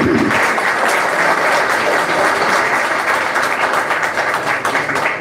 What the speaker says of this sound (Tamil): உண்மையிலே நல்லா கைதட்டி பாராட்டுங்க